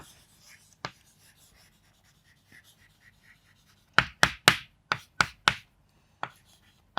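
Chalk or marker on a board during a school lesson on electric current, heard as a burst of sharp, rapid strokes close by after soft faint taps, with a voice nearby.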